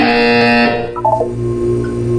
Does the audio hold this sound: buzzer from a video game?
yes